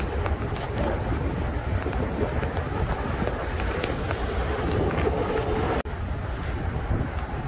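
Strong wind buffets the microphone in a constant loud roar, with no break except one brief dropout.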